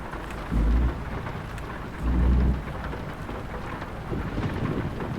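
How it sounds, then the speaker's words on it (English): Heavy rain pours steadily in American Truck Simulator while thunder rumbles in two deep, rolling bursts, the downpour hissing on surfaces throughout with no voices. "It's a thunderstorm."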